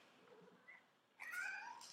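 A house cat meows several times indoors, a drawn-out, rising cry that follows a short softer mew and quiet room tone, fairly close and clear with no talking.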